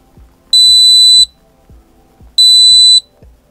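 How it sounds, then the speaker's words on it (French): Two loud, sustained electronic beeps from an Acetech Blaster tracer unit's self-test, each lasting under a second, separated by a short pause, with soft rhythmic clicking underneath. "Donc là, un bip."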